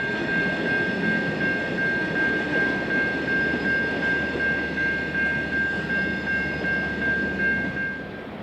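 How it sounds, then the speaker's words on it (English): CSX local freight transfer Y310 creeps into Kirk Yard behind two SD40-variant diesel locomotives, a steady low engine rumble with a sustained high tonal whine held level throughout, no talk. "CSX local Y310, a transfer out of the railroad's bar yard in Chicago, is entering Kirk Yard behind two different SD40 variants this morning"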